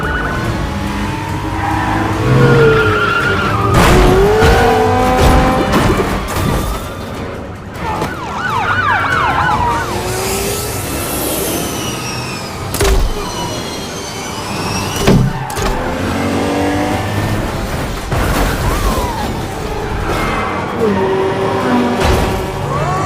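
A film car chase involving a police car and a sport motorbike: roaring engines, squealing tires and wailing sirens sweep past in loud, shifting bursts, with crashes and whooshes layered over a dense action-movie mix.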